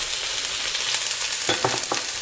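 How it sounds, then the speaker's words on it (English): Ginger slices fry in a hot wok with a continuous bright sizzle, joined near the end by a few quick scraping strokes of a spatula, close and clear with no voices. "fry the ginger until it starts to get that fragrance"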